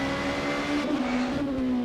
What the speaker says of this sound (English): you can hear that he's downshifting really aggressively